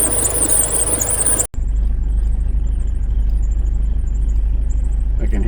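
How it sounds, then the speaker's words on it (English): A 1984 Porsche 944 engine with a slipping belt: a loud high squeal runs over the idle, then cuts out abruptly, leaving a steady close low engine rumble and faint chirps. "That's a belt squeal going on here."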